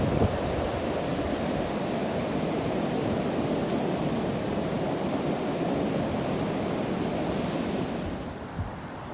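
Rushing floodwater during Storm Ciara roars steadily and loudly close by, a dense continuous wash of water noise with some wind, with no talking, easing slightly at the very end.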